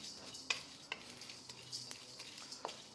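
Whole spices, red chilies, black peppercorns and fennel seeds dry roasting in a kadhai for karahi chicken, a faint soft crackle with sharp spoon scrapes and clinks at irregular intervals.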